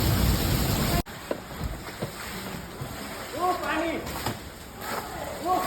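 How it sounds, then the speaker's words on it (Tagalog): Heavy rain during a storm in Dubai, a dense continuous hiss of rainfall and running water, with voices talking over it partway through. "Grabe yung ulan. Bagyo na to."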